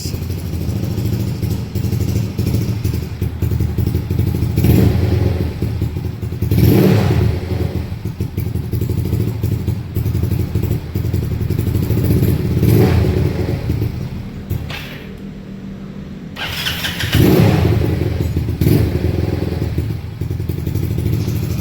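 A Honda Mio motorcycle engine runs after camshaft tuning, idling with a steady rumble and clatter, rising in a few revs before settling again, close and loud.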